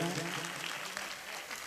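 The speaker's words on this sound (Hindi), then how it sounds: "एक बार इनके सम्मान में भी जोरदार ताली बज जाए।" An audience at a Hindi comic poetry gathering applauds a poet, with dense, steady clapping from a crowd in a large space and a voice mixed in.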